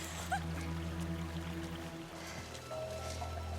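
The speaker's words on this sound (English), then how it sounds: "Sounds like a waterfall." A distant waterfall in a rocky mountain setting produces a faint, continuous rushing wash beneath a low steady hum, with no one speaking.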